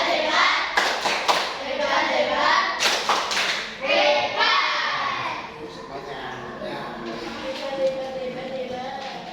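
Classroom group of children clapping hands in a rhythmic cheer after a student group's presentation on infectious diseases, loud patterned bursts that fade into chatter and talking.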